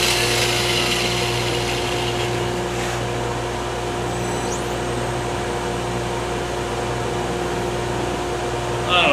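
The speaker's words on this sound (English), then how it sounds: "This is Milwaukee, same thing as the Sioux angle grinder. It's variable speed." A Milwaukee variable-speed angle grinder runs steadily and loudly for the whole stretch, a constant motor whine with a low hum beneath it and no pauses.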